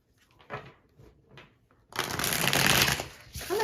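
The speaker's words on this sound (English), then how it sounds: "This deck is shuffling nicely for you." A deck of tarot cards being shuffled, with a few soft taps and slides first and then a dense, close riffling burst that fills the second half.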